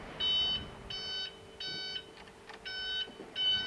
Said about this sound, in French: la sonnette d'alarme, vous voyez le petit bouton rouge qui nous dit qu'on n'est pas assis sur le siège